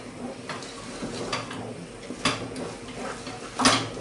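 A spoon clinks and scrapes against a pot while butter and two kinds of sugar are stirred for a honey nut cake, giving scattered metallic knocks over a soft, steady swishing.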